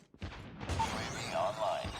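A weapon magazine reload in the shooter game Call of Duty Mobile: a short sequence of metallic clicks and clacks after a brief quiet start, close and moderately loud.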